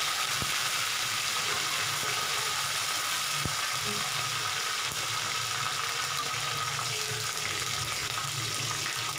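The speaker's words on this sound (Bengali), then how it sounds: "এক মিনিট মতো আমি ফ্রাই করে নিব" Black mustard seeds, green chili and curry leaves frying in hot oil for a dhokla recipe, a steady, dense sizzle and crackle that stays even and continuous throughout, with occasional faint pops.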